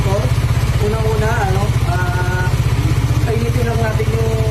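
A motorcycle engine idles to warm up before a check, a loud, steady, rhythmic putter close by, with a voice talking over it throughout.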